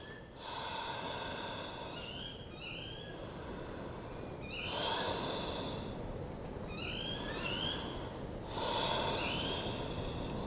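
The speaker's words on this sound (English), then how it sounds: "We're going to take 3 deep breaths." Slow, deep breathing in a yoga forward fold comes as several rhythmic, airy breath swells spaced a couple of seconds apart, close and soft over steady background noise.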